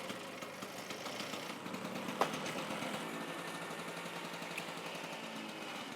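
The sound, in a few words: carburetor motorcycle engine idling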